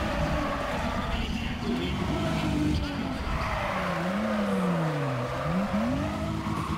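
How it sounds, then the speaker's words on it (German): A V6 car engine in Need for Speed ProStreet drones and shifts pitch, rising and falling as it revs, with tire noise and a faint voice underneath. "Oh, mal wieder ein V6 hören."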